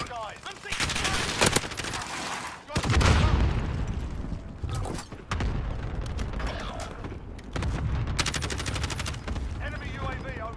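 Close automatic gunfire rings out in Call of Duty: Warzone in several bursts separated by short gaps, with mechanical clicks and a heavy thump in between.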